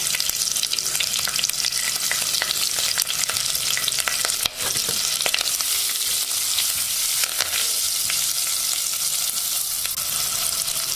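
Onions, green chilies, curry leaves and ginger fry in a sambar tempering, a dense, bright sizzle with repeated stirring scrapes and one sharp clink, close and uninterrupted by speech.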